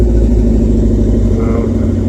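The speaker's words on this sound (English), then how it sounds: "we're revving it up a little bit, clearing out the cylinder" A Chevy Cobalt with a direct-injection engine and 132,000 miles is revved gently during intake and valve cleaning, a loud, close, steady low engine rumble with slight rises in pitch and no talk.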